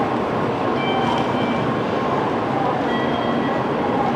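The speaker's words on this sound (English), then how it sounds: "This train is actually going to Shin Osaka." A Shinkansen bullet train at Tokyo Station bound for Shin-Osaka, a loud steady rumble of train noise with faint high whining tones, continuous and close, with no talking.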